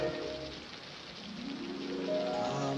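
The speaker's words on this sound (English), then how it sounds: "it is a freaking torrential downpour, soaking ass wet kind of rain" Torrential, soaking downpour outside a downtown area, heard as a steady, loud wash of rain filling the whole clip, with a faint rising tone underneath toward the end.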